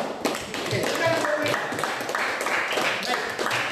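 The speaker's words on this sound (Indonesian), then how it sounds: "Tepuk tangan dulu untuk kelompok ini yang sudah teliti melihat" A classroom of students claps for a student group, dense overlapping claps filling the room from start to finish, with voices mixed in underneath.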